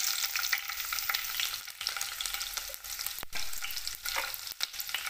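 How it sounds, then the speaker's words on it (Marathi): Green chillies fry in hot oil in a wok, a loud continuous sizzle and crackle with occasional stirring scrapes, close and alone. "कढईत तेल टाकून घेतलं आहे, आता याच्यात आपण मिरच्या टाकून घेणार आहोत."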